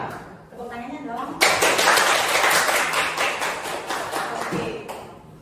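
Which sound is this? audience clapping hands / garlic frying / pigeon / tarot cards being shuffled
audience clapping hands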